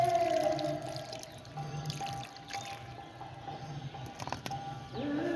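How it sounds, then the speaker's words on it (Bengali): Water poured onto a potted rabbit's foot fern, a steady close trickle and splash running continuously at moderate loudness with slight variations in flow. "আর এখন আমি ভালো করে জল দিয়ে দিচ্ছি গাছটাতে।"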